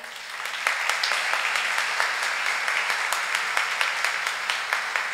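Applause from a concert audience at a school charity concert, a dense steady wash of many hands clapping throughout, fairly loud and even, with no talk over it.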